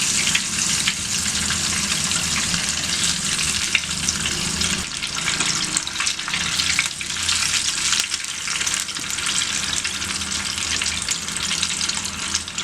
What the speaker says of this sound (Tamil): இந்த மாதிரி போடும் போது இந்த மாதிரி நல்லா பொரியணும்